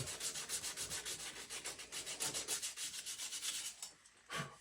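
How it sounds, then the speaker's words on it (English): Hand sanding an axe along the grain to cut back a blackened finish: quick, even back-and-forth rubbing strokes repeat rhythmically up close, pausing briefly before one last stroke. "don't worry about sanding across the grain"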